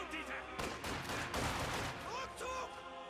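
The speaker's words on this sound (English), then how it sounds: "Shots fired." Bursts of rifle and machine-gun fire in a Company of Heroes 2 battle, faint and dense throughout the short stretch, with a commentator's voice running over it.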